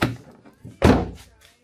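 A Subaru car door is slammed shut once, close by: a solid, heavy thunk followed by a short rattling decay, with a voice briefly heard beforehand.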